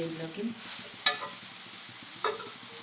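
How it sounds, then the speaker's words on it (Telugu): Tomatoes fry in a pan for a bitter gourd tamarind curry, a steady sizzle with stirring, broken by two sharp scraping clinks of a spoon against the pan. "టమాటాలు అనేవి బాగానే ఫ్రై అయ్యాయి"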